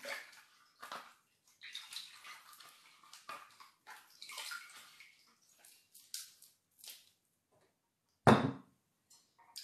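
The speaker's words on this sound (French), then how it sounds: "On va laver notre pomme parce qu'on a besoin de la laver, purifier la pomme, c'est important." An apple is washed in water, with intermittent splashing and sloshing in bursts close by and one louder splash near the end.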